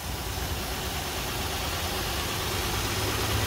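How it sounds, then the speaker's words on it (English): A 2000 Nissan Maxima's 3.0 V6 engine idles at a used car auction in Las Vegas, a steady, even rumble heard close up with no talking. "Got the motor running, sounds really good."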